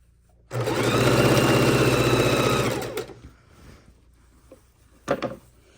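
A sewing machine stitches a pastel house quilt border, running in one loud, steady burst of rapid needle hum for about two and a half seconds, then stopping, followed by faint handling noises and a short clack.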